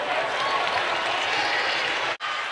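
A basketball arena crowd at a James Madison vs. Virginia college game cheers and applauds in a loud, dense, sustained roar that cuts out abruptly near the end.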